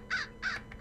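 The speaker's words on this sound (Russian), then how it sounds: "у него там везде есть какая-то ворона, которая вечно орет и мешает" A crow in a Hello Neighbor mod video game caws three times in quick succession, the harsh calls clear and moderately loud with a faint fourth note between them.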